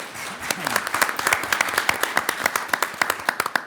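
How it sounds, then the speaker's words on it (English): An audience at a student leadership forum breaks into a round of applause, dense clapping that settles into rhythmic, evenly spaced claps, with a voice talking over it. "Round of applause for Cindy, please."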